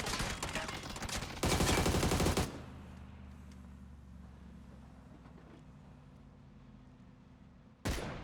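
Gunfire in PUBG: a loud, rapid burst of automatic shots over the first two seconds, then a long quiet stretch of faint ambience before another sudden shot near the end.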